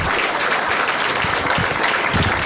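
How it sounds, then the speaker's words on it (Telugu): Graduates at a medical college graduation ceremony clap for their teachers, a dense, steady roar of many hands sustained throughout at close range. "సో క్లాప్స్ యువర్ గురువులు."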